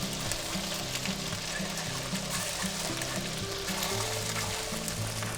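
Bologna slices fry slowly in a pan for a grilled sandwich, giving a soft, steady sizzle and gentle crackle that stays fairly quiet and even throughout, with no voices.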